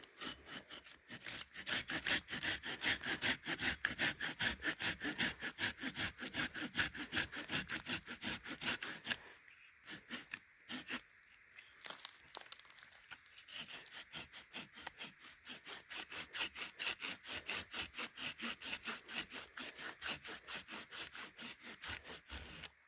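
A Silky Outback folding saw cuts through resinous fatwood that is partly clogging its teeth, making steady, rapid back-and-forth rasping strokes that pause briefly midway, then resume.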